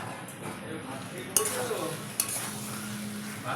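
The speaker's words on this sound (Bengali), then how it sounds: "আলুগুলোকে আমি লাল করে ভেজে রেখেছি, আমার মশলাও রেডি। এই আমি দিয়ে দিলাম আলু।" Fried potatoes are tipped into a spiced masala and stirred. Soft, continuous sizzling is broken by a couple of sharp clinks of a utensil against the pan, close up.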